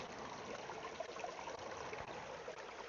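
Water trickles out after the port on a brine reservoir is opened, making a faint, continuous close burble and gentle splash with no speech.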